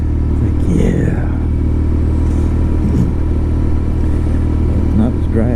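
BMW R nineT motorcycle engine coasting with the throttle closed, a steady loud low rumble with engine-braking burble, under someone talking throughout.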